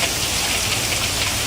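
Hail pelts down across a front yard in Lemoore during an atmospheric river storm, a dense continuous hiss of ice striking the ground, steady and loud with no voices.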